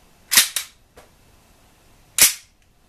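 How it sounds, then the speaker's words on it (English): A WE G17 airsoft pistol with a full metal slide is fired, its slide cycling with sharp, crisp cracks. Two quick shots come close together, then a faint click, then one more sharp shot after a pause, close and loud with no voices. "Full metal slide, and it sounds nice."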